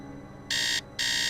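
An alarm clock in the Nancy Drew video game sounds two loud, harsh electronic buzzes, each about a third of a second long, over a faint, steady background hum.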